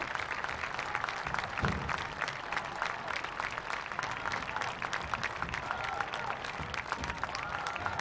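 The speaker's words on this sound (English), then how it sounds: "as you hear the round of applause for Beeson, who's been lifted up onto the stretcher" A crowd at a high school state semifinal football game between Galax and Patrick Henry applauds steadily as an injured player is carried off on a stretcher, a distant, continuous wash of clapping with no talk.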